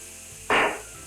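Canned garden tomatoes drop into a hot pot, setting off a short burst of sizzling that hits abruptly and dies away within about a third of a second.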